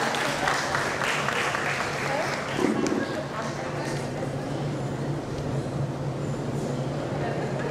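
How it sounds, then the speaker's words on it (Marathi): A crowd applauds steadily at a prize-distribution ceremony of a Marathi parents' convention, the dense clapping sustained for the full stretch at an even level with a faint low hum beneath. "सर्वांनी टाळ्या वाजवून त्यांचं कौतुक करायला हवं."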